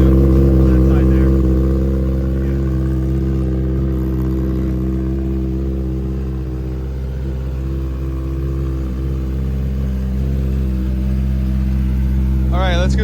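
A 2023 Kawasaki ZX-10R KRT Edition superbike with a Yoshimura AT2 exhaust idles cold, a loud steady low rumble that holds evenly throughout.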